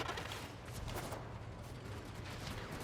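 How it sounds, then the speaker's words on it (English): Rapid video game gunfire crackles in a quick burst of repeated shots, fairly faint and dense, with little else audible around it. "Silly me shooting that while I was in the air"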